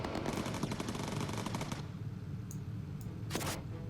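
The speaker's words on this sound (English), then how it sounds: "Start doing some focus fire, Roberts." A rapid, continuous rattle of machine gun fire in the World War II bomber game Bomber Crew. It runs loud for almost two seconds, then stops, leaving a few faint, short bursts and one brief loud burst near the end.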